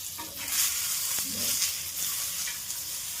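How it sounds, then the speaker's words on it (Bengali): Onions, tomatoes and garlic frying in a little oil in a pan, a steady close sizzle with a few soft stirring scrapes, no voices. "তো এটাতে আমি হালকা একটু তেল দিলাম।"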